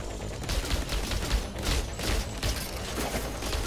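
Sustained machine-gun fire in the video game Outriders, a dense rapid stream of shots rattling continuously throughout at steady loudness, with no pauses or voices.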